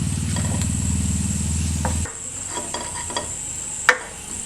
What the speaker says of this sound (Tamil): இதை இந்த நெய்லேயே போட்டு நல்லா வறுத்துக்கலாம்.